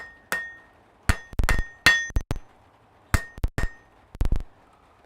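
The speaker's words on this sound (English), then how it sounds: "Make a nice sharp taper at the edge of the anvil" A smith hammers a sharp taper on hot metal at the edge of an anvil: about a dozen sharp, ringing hammer blows. They come in quick clusters of two to four, close and loud, with bright metallic ring and pauses between bursts.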